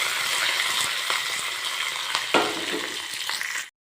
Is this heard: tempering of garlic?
yes